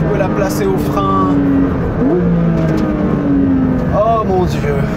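A Porsche 911 S/T sports car engine revs and shifts through gears, rising and falling in pitch, loud and close, with a voice over it.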